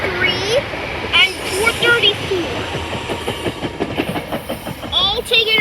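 SEPTA Silverliner commuter cars roll past at Elkins with steady clickety-clack of wheels over rail joints, close and fairly loud, with voices and brief chatter audible over the train noise.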